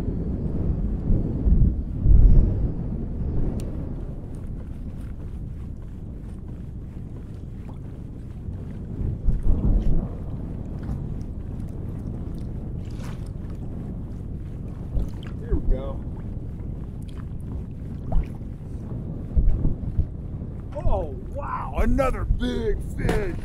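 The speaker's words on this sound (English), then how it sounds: "Wind's wanting to spin me around all the time." Wind blows over open water around a small fishing boat on a trout outing, a steady buffeting rumble with occasional gusty thumps on the microphone, continuous throughout and loud.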